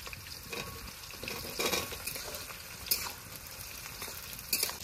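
Onion drops into hot oil already seasoned with cumin, bay leaf and green chili, frying with a soft, steady sizzle. Intermittent spatula stirs and scrapes rise over the crackle, with no voices.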